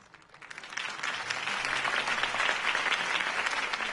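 Crowd applause in a video game after Harvey Dent's campaign speech, swelling up from quiet into a broad, steady roar of clapping that holds strong to the end.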